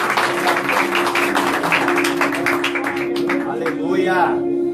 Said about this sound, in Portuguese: Uma salva de palmas ao nosso amado pastor.